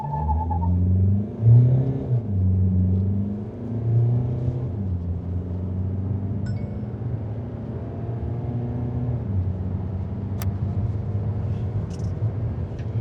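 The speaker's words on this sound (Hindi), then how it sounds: "अब देखते हैं गाड़ी 0 to 100 कितने टाइम में करती है।" A Mahindra XUV7XO SUV carrying three people, with the air conditioning on and the boot fully loaded, accelerates hard from 0 to 100 km/h. The engine note climbs through several gear changes, with a steady rumble and road noise inside the cabin.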